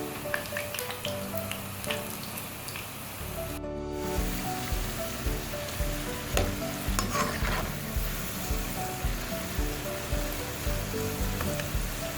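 Potato french fries deep-frying in hot oil as they turn golden brown, a steady close sizzle with light stirring running throughout beneath background music.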